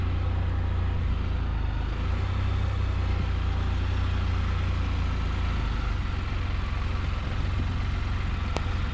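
2020 Can-Am Spyder RT engine running at low revs while the three-wheeler backs up slowly in reverse, a steady, close, deep idling rumble that holds evenly throughout with no voices.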